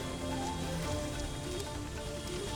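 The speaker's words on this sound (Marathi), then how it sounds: "अगदी मुसळधार पाऊस कोसळतोय गोंदियात" Heavy monsoon rain pours down steadily on waterlogged streets in Gondia, a dense, even patter of drops drumming on surfaces throughout.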